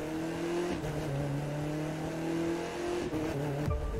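Car in The Crew 2 pulling away under throttle, a steady droning engine note with gear changes stepping the pitch, loud and close with no talking.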